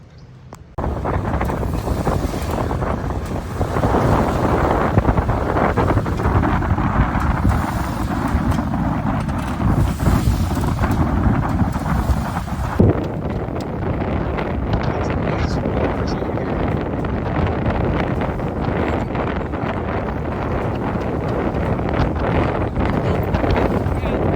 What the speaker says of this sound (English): Winds are running from the northeast at 18 to 20 knots today, gusting to 25.